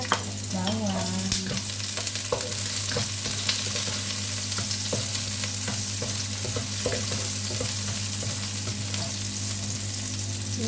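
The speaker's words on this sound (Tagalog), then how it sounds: "ilagay na natin yung sibuyas at bawang" Onion and garlic sizzle steadily in a hot pan for a vegetable coconut-milk dish with canned tuna, a dense continuous frying hiss with occasional stirring clatter and no talking.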